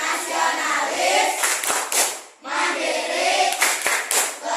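A primary school class in Indonesia claps together while chanting a rhythmic group cheer, two phrases of fast hand claps with young voices chanting over them.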